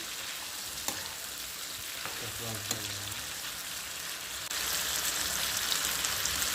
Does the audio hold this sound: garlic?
yes